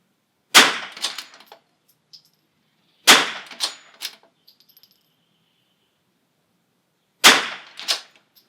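A bolt-action rifle fires three sharp, loud shots at a precision rimfire match, each crack followed by a short metallic rattle, separated by quiet gaps.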